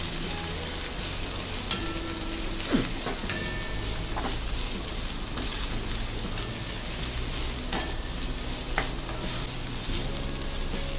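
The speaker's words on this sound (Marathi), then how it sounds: "मोठ्या गॅसवर 10 मिनटं छान परतून घेतलं." Chopped vegetables sizzle in hot oil on a high flame while being sautéed for garlic pepper rice, a steady close frying hiss broken by occasional clinks and scrapes of a spatula.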